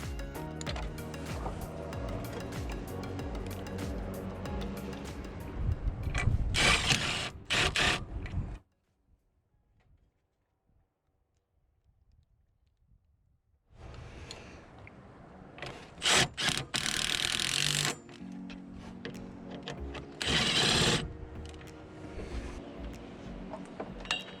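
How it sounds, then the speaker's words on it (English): Wood Tek screws are driven through a brace bracket into a roof rafter for an under-tile antenna mast mount. Loud bursts of rasping, grinding drive noise come in two spells, separated by several seconds of near silence. "fix the left hand brace bracket to the rafter using 3 wood Tek screws"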